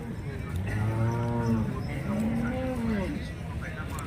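Cattle low at a livestock market, two long harmonic moos following one another up close, with steady crowd murmur and other animal noise underneath.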